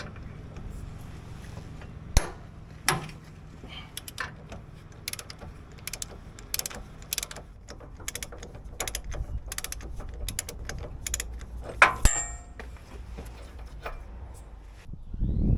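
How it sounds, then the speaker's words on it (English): A torque wrench worked as a ratchet loosens a 42 mm nut on a Jeep Gladiator, giving sparse, irregular metallic clicks and ratchet ticks, close and fairly quiet, with no talking. "you're not supposed to use your torque wrench as a ratchet"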